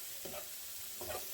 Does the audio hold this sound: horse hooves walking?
no